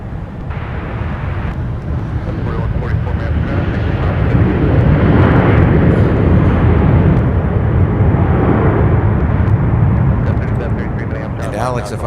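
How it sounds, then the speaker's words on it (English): A Jazz Aviation regional airliner in Air Canada Express livery passes at MSP airport, its engine roar swelling to a broad peak midway and then easing off, with people talking over it. "I believe that flight was operated by Jazz Air with an Air Canada logo on it."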